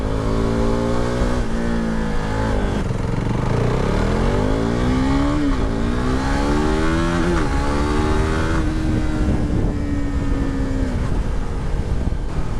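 A KTM RC390 sport bike accelerates hard, its engine whine climbing in repeated sweeps through the gears, loud and close with the rider's wind noise and no talk.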